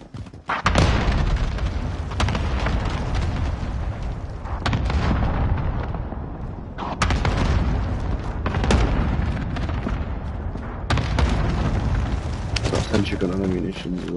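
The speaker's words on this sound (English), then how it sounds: "Allied cluster strike inbound." Heavy booming blasts from a cluster strike in a shooter video game, several deep explosions spaced a few seconds apart with rumbling tails, while a player talks over them.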